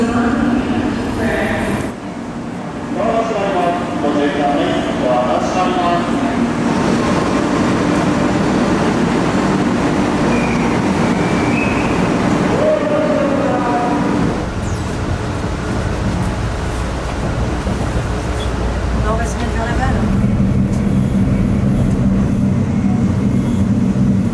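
Steady rumble and rattle of a Japanese train carriage travelling toward Tokyo, a continuous loud ride noise with shifting tones throughout.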